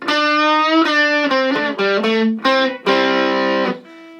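Electric guitar played through an EarthQuaker Devices Plumes transparent overdrive pedal, loud and close, a short run of overdriven notes and chords with sustained tones and a final fading note, no talk.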